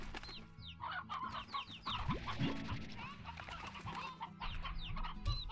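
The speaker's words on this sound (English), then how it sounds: "So let me grab a couple chickens." Chickens in the video game Slime Rancher cluck steadily, many short overlapping clucks from several birds at moderate loudness with no talk.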